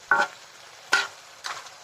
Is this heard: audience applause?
no